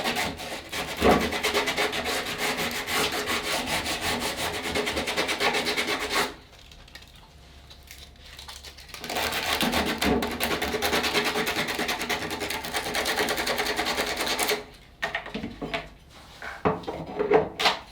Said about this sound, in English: Generally the ends are a little bit harder to sand than the sides.